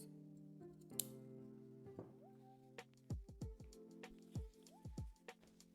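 Scissors snip through dry, old denim jeans in a quick series of crisp, close cuts over a faint steady background hum.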